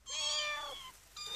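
A mother cat lying in straw with her kittens meows close by: one long, drawn-out wavering meow, a short pause, then a second meow starting.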